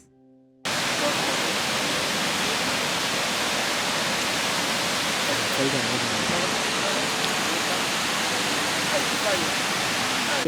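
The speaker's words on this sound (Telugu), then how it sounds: "సో అదిగో కనిపించేదే లాడర్స్ వాటర్ ఫాల్" Ladder Falls in Tallulah Gorge State Park, a steady, loud wash of falling water rushing continuously without pause after a brief quiet start.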